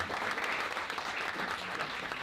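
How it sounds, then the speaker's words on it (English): Audience applause at a youth leadership breakfast program, a dense, even burst of many hands clapping that holds steady for the whole stretch, with no talk. "Another round of applause."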